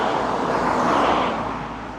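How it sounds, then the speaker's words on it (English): Cars blow past on a highway beside a walker on the Camino del Norte. The traffic roar is loud and close, swelling and easing slightly as vehicles rush by, with no voices. "walking down these highways with cars completely blowing by"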